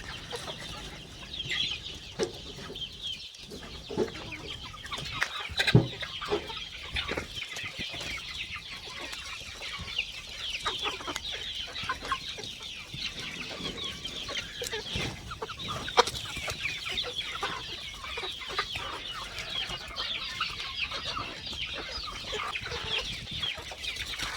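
Several free-range desi chickens, four-month-old cocks and hens, cluck and chatter nearby, with scattered sharper calls over a low farmyard background.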